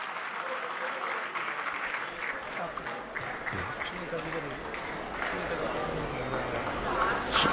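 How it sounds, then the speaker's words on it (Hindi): Loud applause from a crowd at a political workers' gathering in Rajasthan welcoming the Jaipur Greater mayor, sustained clapping that swells toward the end, with voices over it. "जोरदार तालियां।"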